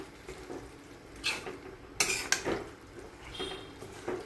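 Chicken being stirred in a pan gives faint, scattered metallic scrapes and clinks over a low cooking hiss, with a few sharper knocks in the middle.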